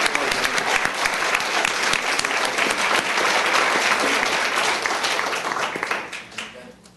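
Applause from an audience at a county commissioners court meeting, a loud dense burst of clapping that holds steady, then thins and fades out near the end.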